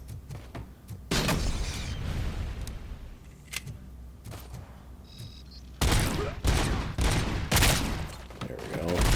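An arcade shooting video game sounds off with bursts of gunfire and grenade blasts, heavy volleys opening and returning near the end, with loud impacts and quieter gaps between.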